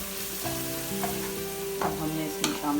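Spices fried with kasuri methi, turmeric and salt while being stirred for an aloo baingan sabzi, a steady close sizzle under a few scraping spoon strokes, no talking.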